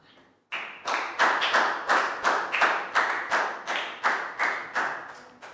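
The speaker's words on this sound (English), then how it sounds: "Big round of applause for Pat." A classroom of Year 3 pupils claps for a classmate in a quick run of about a dozen sharp bursts, close and loud, with no talking over it.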